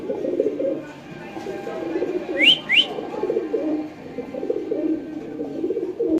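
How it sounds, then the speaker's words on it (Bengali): Damascene pigeons cooing close by, soft low rolling coos repeating throughout, with a pair of brief higher whistling calls in the middle against a quiet background. "যারা কবুতর চিনে একদম অরিজিনাল দামাসিন কবুতর"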